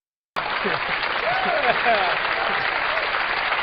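A studio audience bursts into loud, sustained applause and cheering after a celebrity impression on a talk show, dense clapping with whoops rising over it from start to finish.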